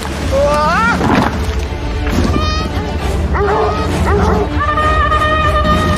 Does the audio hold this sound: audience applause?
no